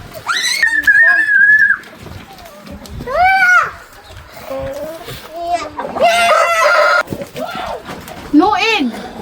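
Backyard coop with a rooster crowing loudly several times and hens clucking nearby, close and clear, mixed with people talking and children's voices.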